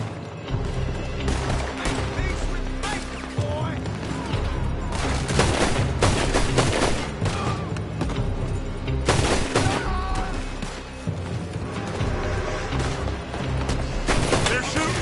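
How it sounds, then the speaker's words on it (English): Loud, sustained gunfire in Red Dead Redemption 2, with overlapping volleys and heavy bursts of shots cracking almost nonstop for the whole stretch. "They're shooting from that building."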